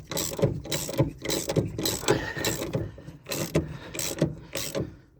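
A hand ratchet tool turning out a threaded shackle bolt on a car, about ten quick ratcheting clicks in steady bursts, close and alone.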